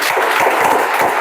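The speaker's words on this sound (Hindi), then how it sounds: "ताली बजाओ जी आप।" Students in a coaching class clap together in a brief burst of applause, a close, even patter of many hands lasting about a second with no talking.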